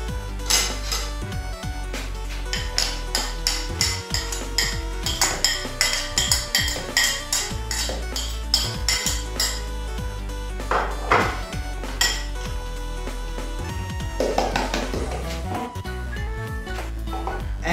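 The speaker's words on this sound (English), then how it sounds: "Now I mix the ingredients." Ingredients for a Spanish recipe, including chopped coriander, being mixed in a bowl, heard as dense, rhythmic clinking and scraping of utensils against dishware that continues loud and close for the whole stretch, with no talk.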